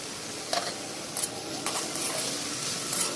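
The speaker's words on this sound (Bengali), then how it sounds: "ঢাকনাটি তুলে নিয়ে ভালো করে নাড়াচাড়া করতে হবে।" Dheki greens are stirred in a pan with the lid lifted, giving a few scraping, clattering strokes over a continuous hiss of cooking.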